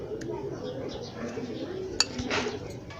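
A spoon stirring green coriander-mint chutney into whisked yogurt in a bowl: light clinks and scrapes of metal against the dish, close by and partly under a woman's speech, with one sharper clink.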